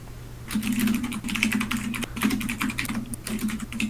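Fingers type rapidly on a computer keyboard during an online capture-the-flag game match, making close, crisp clicking keystrokes in quick irregular bursts.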